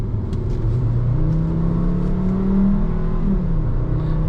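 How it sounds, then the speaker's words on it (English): A 2010 Volkswagen Jetta SEL engine revs under acceleration while driving. The low, steady rumble rises in pitch and then settles, heard up close from inside the cabin with no talking. "Yeah, and when you rev it,"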